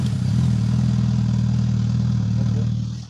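A Suzuki GSX-S 1000 naked motorcycle with its factory exhaust idles close by, a loud steady low rumble with an even pulsing beat that holds throughout and fades slightly at the very end, no talking.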